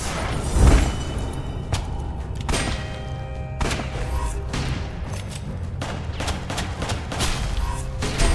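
Repeated shotgun blasts from enemies in the video game West of Dead, a fast series of loud booming shots and thuds with no talking.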